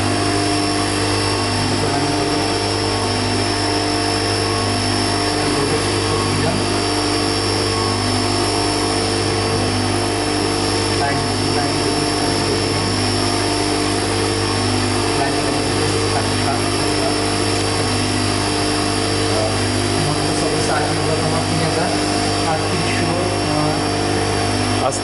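A small electric motor on an EV machine lab trainer hums at a steady pitch throughout, close and even, with a person speaking over it.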